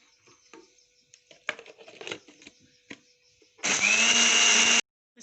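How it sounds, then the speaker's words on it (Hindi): An electric grinder whirs loudly for about a second while grinding sugar for an eggless coffee cake, after soft clinks and handling sounds. "अब इसके अंदर चीनी ग्राइंड कर लेंगे"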